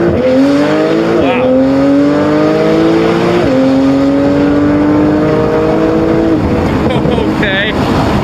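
A twin-turbo, roughly 1000 hp all-wheel-drive Lamborghini accelerates hard, its engine note climbing through repeated gear pulls while the wheels briefly spin. It is loud and close from inside the cabin, with short squeals and people talking over it.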